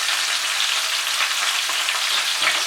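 Mixed vegetables for neem shukto, including raw banana, drumsticks and potato with salt, frying in oil while being stirred; a loud, dense, continuous sizzle fills the whole stretch, close and without speech.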